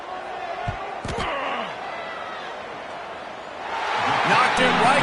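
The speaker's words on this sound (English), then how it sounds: "Knocked it right through, showing that big range from 48 yards out." An American football field goal is kicked from 48 yards, a sharp thump of the kick followed by a swelling stadium crowd roar, with a commentator talking over it.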